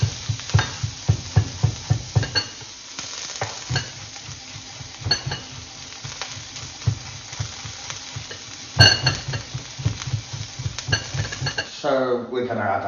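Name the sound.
garlic and ginger frying with onions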